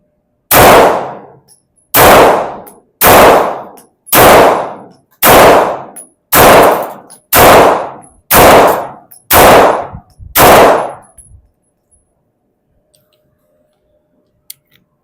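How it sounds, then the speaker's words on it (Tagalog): Test firing a Smith and Wesson Equalizer pistol: ten loud, sharp gunshots in a steady, evenly spaced rhythm about a second apart, then silence. "Tara, samahan nyo ko at i-test fire natin to."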